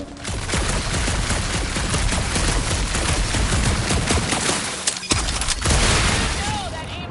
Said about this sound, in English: That aimless shooting isn't gonna scare the monsters away, right?